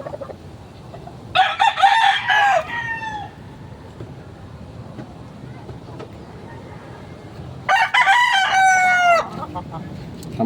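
A molting rooster crows twice with long, loud, nearby calls and soft clucking in between, while a person talks quietly in the background.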